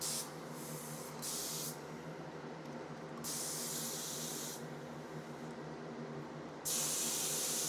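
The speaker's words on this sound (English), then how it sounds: "And then as I open it up, I get more spray." A spray gun hisses in bursts, switching between softer and sharper blasts of air over a constant mechanical hum.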